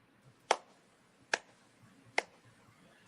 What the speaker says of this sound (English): The mediocre clap.